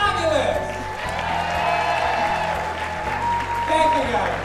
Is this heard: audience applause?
yes